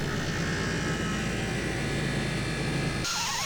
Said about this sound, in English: Now we'll use a bench grinder to clean up the iron